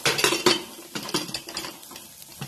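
A metal pot being covered with its lid in a home kitchen, giving a quick series of close clinks and rattles of metal on metal that fade into softer taps.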